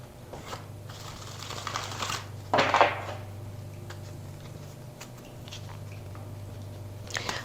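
Tarot cards being shuffled in a quiet room, a few soft papery riffles and one louder burst of card shuffling near the middle, over a low steady hum.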